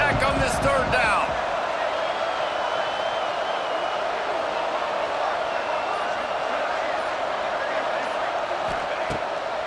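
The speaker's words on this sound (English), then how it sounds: "Guns up, and so is the noise. The crowd electric, trying to help Tech on this third down." Loud, sustained roar of a packed stadium crowd at a Texas Tech football game on a third down, a steady wash of cheering and noise throughout with a few sharp bangs near the start.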